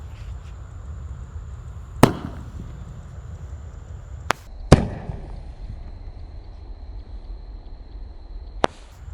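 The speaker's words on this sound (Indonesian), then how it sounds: "ini ada mercon yang ukuran jumbo, namanya elang emas. Kita lihat seberapa tinggi meluncurnya." Several sharp firework bangs and cracks spaced a few seconds apart, one louder pop from a jumbo firework rocket launching followed by a whooshing tail, against quiet outdoor background noise.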